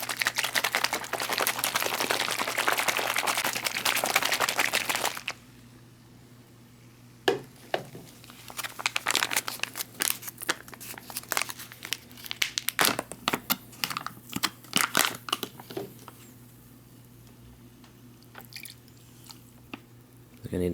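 A sealed MRE drink pouch of tropical punch is shaken hard, with several seconds of dense sloshing and crinkling followed by scattered rustles and taps.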